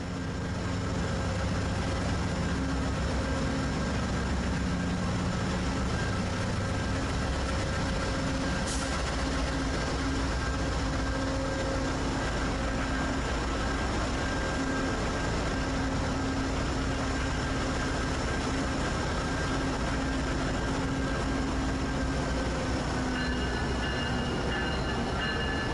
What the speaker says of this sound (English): One of Amtrak's newest locomotives, the SC-44 Charger,